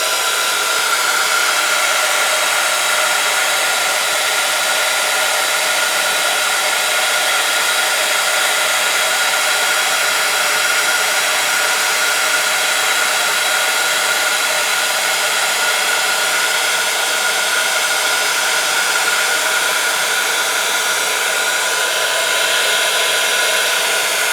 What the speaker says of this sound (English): I'm going to put my heat tool on and let's see how that goes.